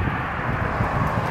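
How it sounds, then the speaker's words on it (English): Strong wind buffets outdoors and roars across the microphone as a constant low rumble, loud and unbroken, with no talking. "It's pretty windy down here."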